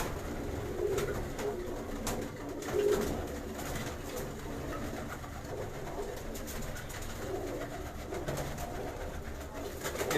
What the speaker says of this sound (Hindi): ये चपड़ी कबूतरी है।